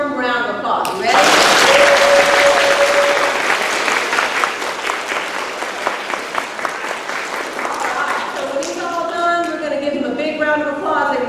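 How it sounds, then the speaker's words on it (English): A school audience breaks into a warm round of applause for a lower school student about to sing, sustained clapping that swells quickly, holds for several seconds and fades, with voices heard at the start and end. "let's give him a big old warm round of applause"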